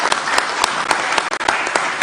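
An audience at a political event applauds in a steady, lively burst of many hands clapping, loud and close, with a few sharper claps standing out.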